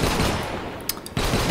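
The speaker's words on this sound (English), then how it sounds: "Some sort of powerful shotgun." A powerful shotgun fires in the video game Storm United, with dense loud blasts filling the stretch, a brief lull with a couple of sharp cracks, then heavy firing again.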